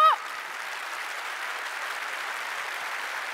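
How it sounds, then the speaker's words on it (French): An audience at a company celebration and start-up trophy event applauds for an applause meter, a steady sustained clapping after a brief vocal cheer at the start. "on lance l'applaudimètre, s'il vous plaît"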